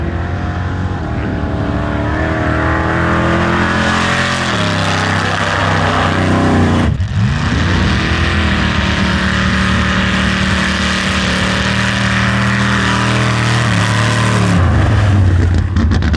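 A truck churns through a mud bog in 2-wheel drive at a mud bog event, its engine roaring loud and continuous, with the revs rising and falling in surges throughout.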